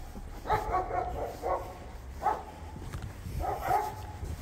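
Dogs bark in short bursts, several separate barks spaced a second or so apart. They sound fairly close, over a low outdoor rumble.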